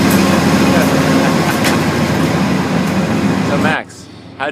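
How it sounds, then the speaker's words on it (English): Inside a moving passenger train: a loud, steady rumble of wheels and carriage noise goes on, then drops away abruptly near the end and leaves near silence. "So Max, how'd you like your train trip"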